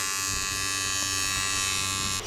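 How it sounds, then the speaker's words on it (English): An arc welder lays a bead on a weld in a garage, a steady loud electric buzz and hiss that holds evenly for about two seconds before stopping. "we're going for weld number 2"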